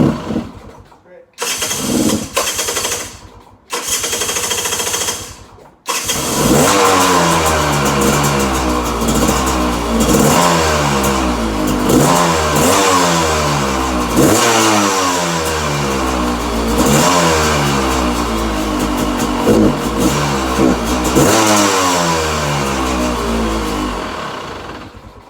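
A cold-blooded dirt bike coughs through a few short start attempts, then catches and revs loudly and steadily with repeated throttle blips, close to the microphone.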